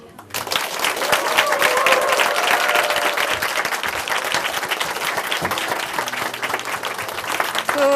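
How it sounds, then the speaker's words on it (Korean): Loud, sustained congregational applause fills a church service at Chuncheon Hanmaeum Church, dense clapping rising quickly and holding steady for several seconds, with faint voices and cheers mixed in. "어느 때보다도 박수 소리가 우렁찬 것 같습니다."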